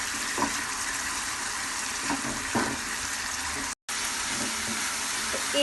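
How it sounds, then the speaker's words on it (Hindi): Ginger, garlic and green chili paste fries in a pan for mutton kofta curry, giving a steady close sizzle with occasional soft stirring clicks and a brief cut partway through. "तो 1 मिनट हो गया था अदरक लहसुन की भुनाई करते हुए ही हमें"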